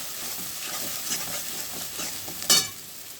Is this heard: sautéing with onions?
yes